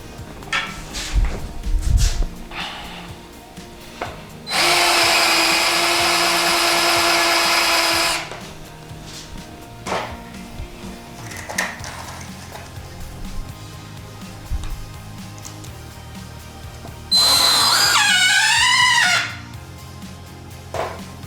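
Black & Decker BDCDD120C 20-volt cordless drill driving screws into pine, two sustained loud whirring bursts of a few seconds each, the second rising and falling in pitch as the screw seats, with quieter handling knocks between.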